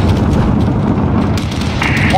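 Rocket explosions from a rooftop attack at Piccadilly Circus in Call of Duty: Modern Warfare, a continuous heavy rumbling blast roar sustained throughout, loud and close, with a brief higher tone near the end.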